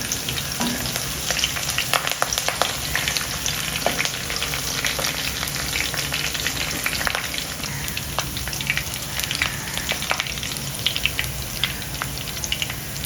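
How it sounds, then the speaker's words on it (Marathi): Curry leaves sizzling in hot oil for a tempering, a dense, steady crackling hiss with scattered sharp pops throughout, close and loud with no talk. "कढीपत्ता टाकूया."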